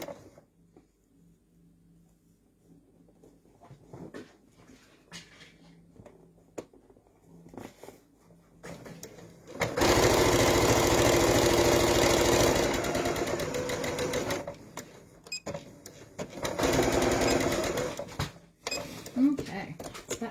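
Sewing machine stitching a French seam on an infinity scarf, a steady loud whirring run after quiet handling noises, stopping, then a second shorter burst of stitching, with speech around it.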